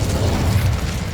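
Incendio fire spell being cast in Hogwarts Legacy: a brief, steady whooshing burst with a low crackling rumble, loud and close, lasting about a second.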